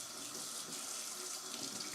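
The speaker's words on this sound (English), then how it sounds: "Just rinsing the sieve or whatever you call it real quick." Tap water runs steadily into a kitchen sink as a sieve is rinsed, a close, continuous hiss and splash with no talking.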